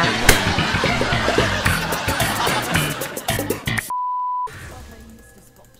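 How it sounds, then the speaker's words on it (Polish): A phone gives one clear sustained electronic beep, sharp and loud, cutting in after a stretch of busy clattering game noise and fading background. "No bo on pika, ten telefon"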